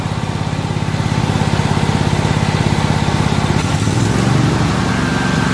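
A Hobart generator's small engine runs steadily and loudly, then revs up as the throttle rises near the end, with no talk over it.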